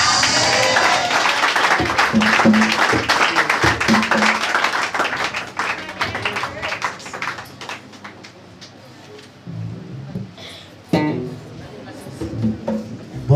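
Applause from a church congregation, a dense burst of clapping that carries on for several seconds and then thins out. Scattered claps continue at a lower level toward the end.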